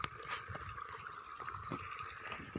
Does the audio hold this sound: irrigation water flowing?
yes